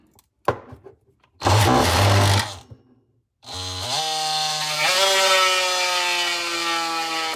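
DeWALT DCS356B oscillating power tool cutting: a short burst, then a harsh buzzing cut about two seconds long, a pause, and a long whining run whose pitch steps up as the speed rises.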